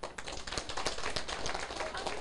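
An audience claps at a lecture in a steady patter of close, brisk hand claps that carries on throughout without a break.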